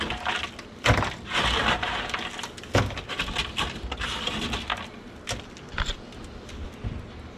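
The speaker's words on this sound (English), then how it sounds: "The sheets of tar quite easily peel away from the metal below." Sheets of tar, frozen brittle with dry ice, peeling and cracking away from the metal beneath, with a string of crackly tearing bursts and several sharp snaps close by, no talking.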